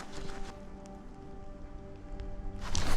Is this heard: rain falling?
yes